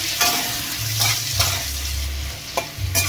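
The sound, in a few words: ginger-cumin paste frying and being stirred in oil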